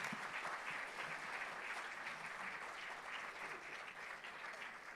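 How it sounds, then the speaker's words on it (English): Continuous applause from an auditorium audience at a national finance conference, honoring the guests, dense and even throughout with no voices standing out. "Guys, please put a big round of applause for all our guests."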